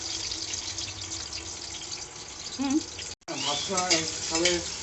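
Food frying in a pan gives a steady, close sizzle with a short cut in the middle, while people talk over it toward the end.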